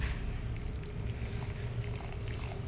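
Water pours onto a newly planted strawberry tree in a soft, steady trickle and splash, faint and close, with no talking.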